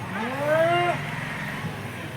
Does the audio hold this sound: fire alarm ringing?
no